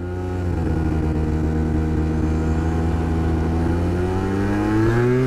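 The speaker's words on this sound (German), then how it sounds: "Das ist einfach bei der JetForce Vollgas." A Peugeot Jetforce scooter engine revs steadily at full throttle, a loud, continuous droning whine with strong harmonics that climbs slightly in pitch toward the end, close and alone.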